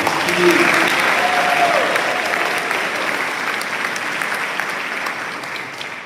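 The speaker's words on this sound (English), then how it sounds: "Let's give them one more round of applause." A graduation ceremony crowd claps for two award recipients in a loud, full round of applause that eases slightly toward the end, with faint voices mixed in at the start.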